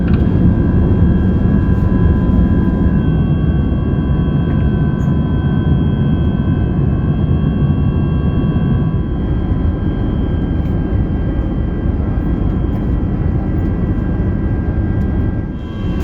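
Steady, loud broadband roar of a British Airways Airbus A380 cabin in cruise flight between London Heathrow and Madrid, a constant engine and airflow drone with faint tonal hums, unbroken for the whole stretch with no talk.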